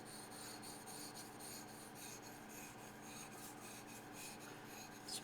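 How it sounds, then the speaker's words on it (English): A yanagi knife is sharpened, including its backside, on a Han-Han whetstone, with quiet, close rhythmic rasping strokes of steel on stone repeating evenly, with no voices. "We're even going to sharpen the backside on this today."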